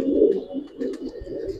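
Giribaz and coloring pigeons in a loft coo continuously with low, throaty, rolling calls, close and fairly loud, with faint chirps in the background and no voices.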